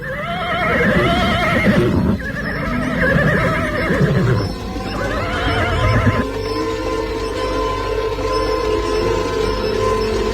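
Horses neigh loudly in several long, shrill whinnies, one after another, close by, over a steady low rumble.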